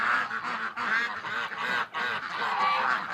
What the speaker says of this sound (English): Come on, wake up, ducks.